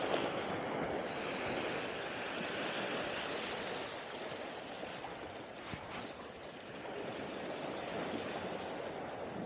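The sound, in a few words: ocean waves breaking on the shore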